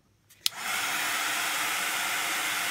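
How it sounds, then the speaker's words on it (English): A steady hiss of air blows across wet watercolor paper during a salt resist craft project, starting abruptly after a brief click and holding loud and constant to the end. "I'm going to blow on this one a little bit."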